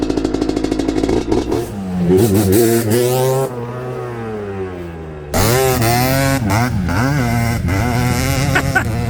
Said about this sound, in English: He said I better not tempt fate too much, and then he just dumps the clutch.